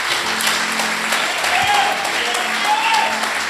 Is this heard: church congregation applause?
yes